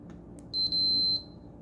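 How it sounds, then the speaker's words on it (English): A single high, pure electronic multimeter continuity beep lasts about half a second, briefly interrupted, over faint background hum. "just listen to the beep."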